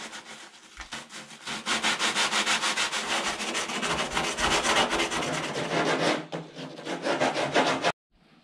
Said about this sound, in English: here now it's very easy to sand this down to get the rough parts out